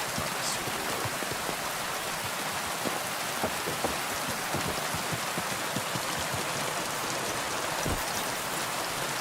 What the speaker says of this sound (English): My, that rain is loud.